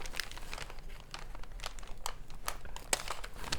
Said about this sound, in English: Am I allowed to rip this bag?